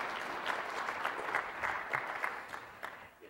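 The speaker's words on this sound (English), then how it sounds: "Give yourselves a hand." An audience at a 2008 USASBE keynote claps together, a steady patter of applause that fades toward the end, with no talk over it.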